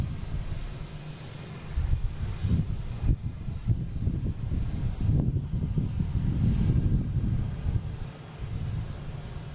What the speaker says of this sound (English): Next taking off, United Airlines.